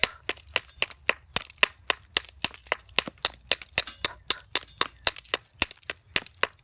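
A hammerstone strikes the edge of an obsidian slab in quick, sharp, glassy clinks, dozens of close, bright taps in an uneven steady rhythm.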